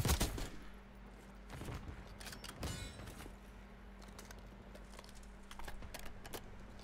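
Sniper rifle shot in Black Ops 6 beta multiplayer, a sharp crack near the start followed by scattered distant gunfire and impacts over a low steady game ambience, with no talking.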